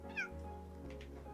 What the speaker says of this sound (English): It's probably the cafe cat anyway.